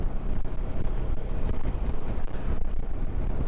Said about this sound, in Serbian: Evo sada kruziram recimo 50 na sat i ja već osjećam udare vetra